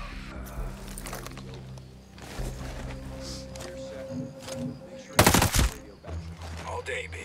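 Gunfire in Ghost Recon Breakpoint cracks out in several short bursts over a low vehicle-like rumble, with the loudest, sharpest volley coming late in the clip.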